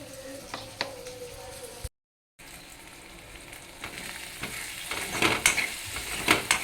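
Vegetables sizzle and fry steadily in a hot pan while cooking for Indian methi dal, a continuous crackling hiss with occasional stirring clicks that grows louder toward the end after a brief silent gap.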